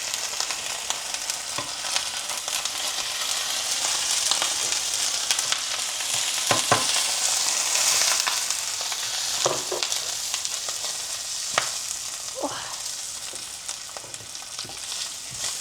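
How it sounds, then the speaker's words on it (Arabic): Rice stir-fries in a pan with butter, garlic and tomato, sizzling steadily up close while a utensil scrapes and stirs in scattered knocks through the hiss. "غادا نحرك هذا الشيء الرز مع داك الزبيده والثومه ومطيش وداك الشيء كامل"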